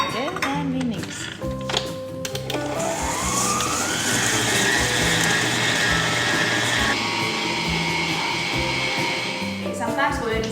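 An electric hand mixer beating cream cheese and sugar for a Basque burnt cheesecake whirs steadily and loudly, its motor pitch rising as it spins up and holding through most of the mix, with a voice heard briefly at the start.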